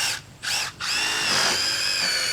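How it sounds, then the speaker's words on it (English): A power drill fitted with a masonry bit bores into rock, starting with two short whining bursts before settling into a steady, loud, high-pitched grind that runs to the end. "you run a masonry bit in there and then run that big screw in there"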